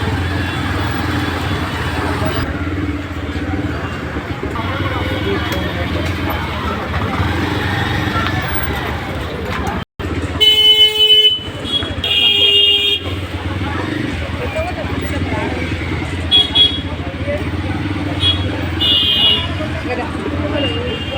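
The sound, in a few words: busy street traffic with cars and motorcycles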